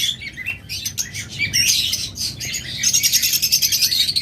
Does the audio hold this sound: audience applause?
no